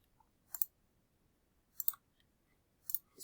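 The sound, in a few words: computer keyboard clicking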